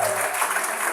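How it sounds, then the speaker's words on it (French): Applause for the women at a Gabonese wedding, a broad, steady patter of clapping from a crowd that runs through the whole second at a moderate level, with faint voices mixed in. "On applaudit pour les femmes."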